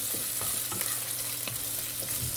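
Mint leaves and green chilies sauté in a pan, a steady soft sizzle with occasional scraping stirs of a spoon, close and quiet with no talking.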